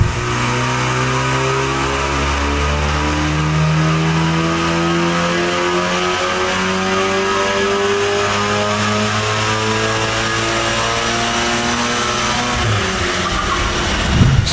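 A Volkswagen Golf R engine with a hybrid turbo holds a loud, sustained high-rev roar on a dyno for several seconds, its pitch steady, then briefly drops near the end.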